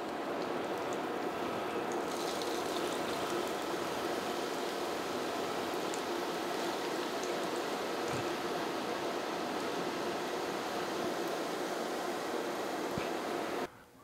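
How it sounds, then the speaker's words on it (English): Hot oil poured through a strainer onto chili in a large bowl foams up with a steady, loud sizzling hiss that runs unbroken for about fourteen seconds before cutting off abruptly. "pour our hot oil through a strainer"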